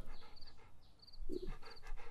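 An old dog pants softly and rhythmically at close range, giving quick breathy puffs, with a faint whimper partway through. No one talks during it.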